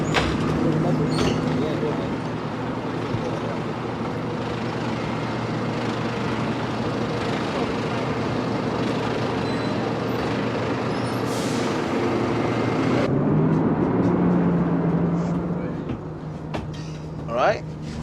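A bus pulls in with a sustained engine rumble and hiss of air brakes, a sharp release near the end, with people talking nearby throughout.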